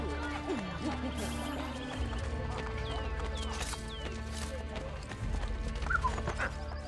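Horse hooves clip-clop steadily in Assassin's Creed Brotherhood, close and continuous, with a whinny and other game sounds layered in and a voice talking over parts of it.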